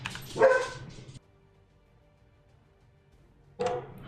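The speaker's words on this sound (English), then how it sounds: "it's awkward because my dog is barking" A dog barks in two short bursts separated by a couple of seconds of quiet, fairly close and clear, with no one talking.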